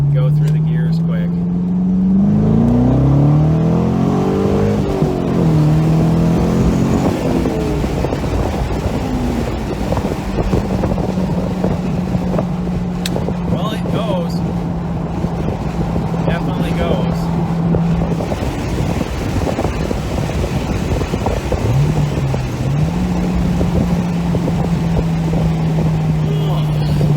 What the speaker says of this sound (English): Go through the gears quick.